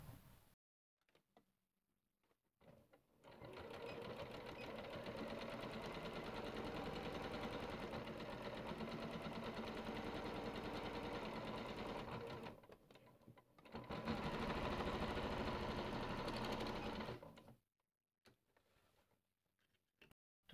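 A sewing machine runs in long continuous bursts, stitching seams on a fabric bag, loud and steady with brief pauses between runs and no talk.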